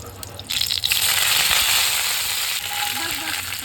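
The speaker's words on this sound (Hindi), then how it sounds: "राई और प्याज डाल दिया है, मूंगफली डाल दिया, अच्छे से फ्राई हो रही है।" Curry leaves, mustard seeds, onion and peanuts frying in a pan, a steady loud sizzle that jumps up after the first half second and crackles on continuously, close by, with no talking.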